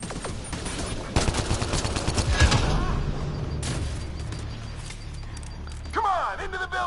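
Enemy gunfire in the video game Mass Effect Andromeda comes as loud rapid bursts and volleys, with a voice talking over the shooting and other game effects.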